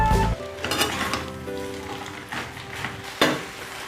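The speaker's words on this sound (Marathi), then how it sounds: "आणि ह्याला आता चांगलं हलवून घेणार आहे." Chinese noodles stir-fried in a pan give a close crackling sizzle, with the scrape and clatter of stirring breaking through in a few sharp bursts.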